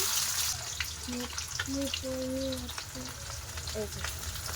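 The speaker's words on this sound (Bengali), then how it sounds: "তেলটা কিন্তু গরম হয়ে গেছে এবারে দিয়ে দেবো পেঁয়াজ কুচি" Chopped onion sizzles in hot oil with a continuous close hiss, while short tonal hums or voice-like notes come and go over the frying.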